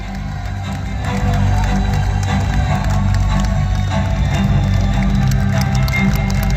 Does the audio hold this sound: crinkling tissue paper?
no